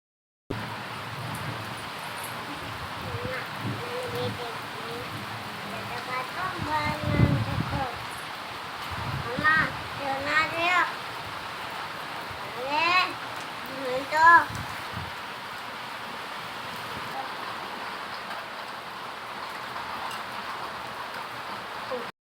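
Steady rain hisses throughout as a broad, continuous wash, with occasional louder bumps and bird-like chirps. People talk intermittently over it.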